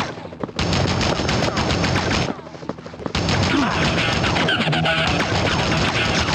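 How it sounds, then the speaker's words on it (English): Gunfire in Spider-Man on the Nintendo 64 comes as loud, dense volleys of rapid shots, broken by a brief pause and then resuming, with faint voice sounds mixed in. "Enough with the shooting already!"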